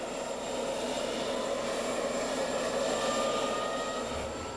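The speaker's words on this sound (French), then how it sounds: "Un F-27 d'ailleurs, c'est l'avion dans lequel on se trouve actuellement." Steady broadband drone of a Fokker F-27 turboprop airliner heard from inside the cabin, a continuous even roar of propeller engines with no talk.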